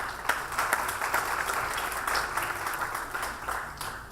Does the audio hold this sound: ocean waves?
no